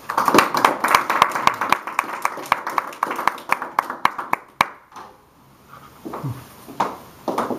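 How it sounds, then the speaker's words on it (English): Audience at a spoken word poetry event claps steadily after a poem, dense hand claps that thin out and stop halfway, leaving only a few scattered faint claps. "let's give her another round of applause"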